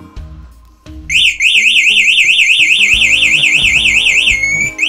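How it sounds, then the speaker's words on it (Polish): A new electric scooter's anti-theft alarm blares loud and close after a few soft clicks: a rapidly warbling electronic siren that runs continuously over a low electrical hum, then ends on a falling tone. "Uwaga, działa alarm."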